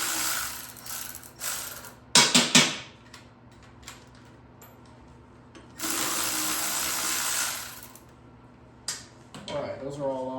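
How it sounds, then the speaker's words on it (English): Ratchet working the rear sprocket bolts of a 1975 Honda XL125, bursts of fast clicking ratcheting, close, with some tool clatter between, a voice speaking briefly near the end. "Ratchet here."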